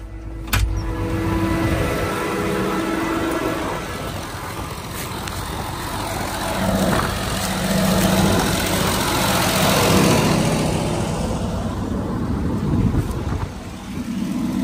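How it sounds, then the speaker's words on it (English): A natural gas engine drives a generator powering an irrigation pivot on a farm, giving a continuous low rumbling drone outdoors with gusty wind-like swells and an early sharp knock. "it's a natural gas engine that turns a generator to get 480 volts to this pivot so that I can move it"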